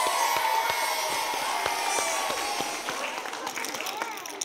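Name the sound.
round of applause at a school assembly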